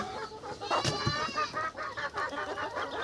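Desi village chickens clucking close by in a short flurry of overlapping calls, several birds at once against a light farmyard background.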